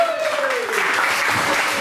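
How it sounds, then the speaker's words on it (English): Audience at a comedy show in Bath clapping and cheering in a sustained, dense wash of applause that stays steady and loud throughout, with no speech over it. "Keep that applause going."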